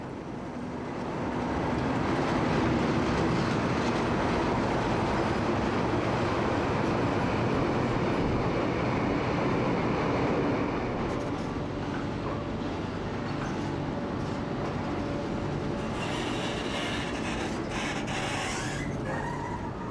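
A train hauled by a Class 37 diesel locomotive rumbles past steadily, with heavy rolling noise and metallic creaks continuing throughout, loud and close.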